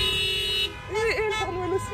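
A short car horn toot blares briefly, with a wavering tone following and voices chattering faintly in the background.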